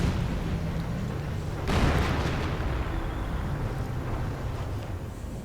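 A German Panther tank (Panzerkampfwagen V) is destroyed by gunfire from Firefly tanks in a WWII strategy game: one sharp, loud boom bursts out partway through over a steady, rumbling battle din.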